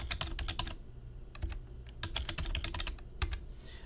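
A computer keyboard is typed on in quick bursts of crisp key clicks separated by short pauses, close and clear against a low steady background hum.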